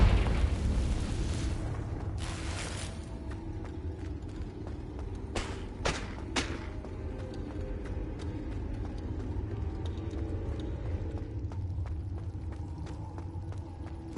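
Confringo fire spell blasts in the Hogwarts Legacy video game, a booming explosive burst at the start followed by a few sharp crackling pops amid steady low rumbling game ambience.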